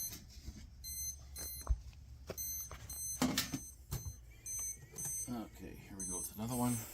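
Repeated high electronic beeps from a digital meat thermometer in short bursts sound in the background while a person talks and moves around nearby, smoking pork ribs and shoulders.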